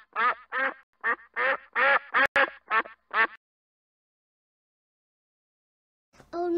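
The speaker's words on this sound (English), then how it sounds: "With a quack quack here and a quack quack there" A duck quacking in a children's farm song, a quick series of about nine evenly spaced quacks followed by a pause, then another quack begins.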